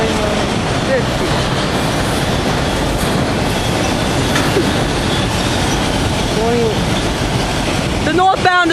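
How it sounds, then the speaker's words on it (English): A northbound Norfolk Southern freight train pulls away at Cooke Road in Columbus, Ohio, its cars rumbling loudly and continuously, with clickety-clack and occasional wheel squeals throughout. "The northbound is leaving at Cooke Road in Columbus."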